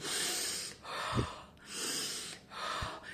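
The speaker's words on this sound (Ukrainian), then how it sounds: "Якщо нам вдається глибоко вдихнути, вдихнути то ми е, прям дихаємо." Three long, audible breaths drawn in close to the microphone, each slow and airy, separated by brief soft pauses.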